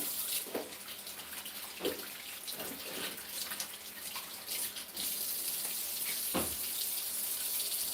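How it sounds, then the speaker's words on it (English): A running tap pours steadily into a sink while hands are washed beneath it, a close, soft rushing with occasional splashes and rubbing. "Just gonna wash my hands"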